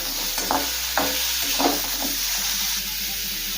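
Drumsticks, potato and pointed gourd fry in an open pan, giving a steady sizzling hiss with several soft stirring scrapes breaking through, close and moderately loud.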